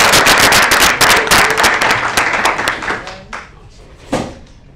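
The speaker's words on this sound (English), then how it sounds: "Let's give another big round of applause." An audience at a public school board meeting claps in a dense, loud burst that thins out after a few seconds, leaving scattered last claps.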